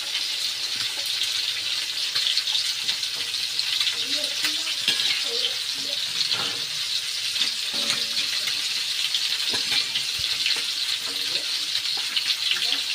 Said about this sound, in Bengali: এই তেলটাও গরম হয়ে গেছে এবার পাপড় দিয়ে দিয়া যাক পাপড়টাও ভেজে নিই